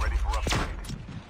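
Sniper rifle fire in the Call of Duty Mobile video game, a loud booming shot with a thudding tail, heard amid ongoing game noise and a voice talking.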